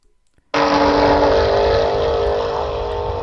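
Aston Martin Vantage launching hard in a drag race against a second Vantage, a sudden loud, sustained engine roar that bursts in after a half-second of quiet and holds steady, close by, with no talk over it.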